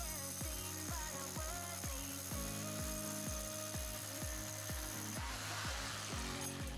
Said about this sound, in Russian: Мы сейчас сделаем вентиляционное отверстие в парной и в мойке.